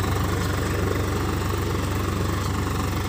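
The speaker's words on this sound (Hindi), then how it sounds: "स्वराज ही बहुत ही गजब ट्रैक्टर है" A Swaraj 855 FE tractor engine idles steadily close by, an even low throbbing rumble with a constant pulse and no variation in pace, no talk over it.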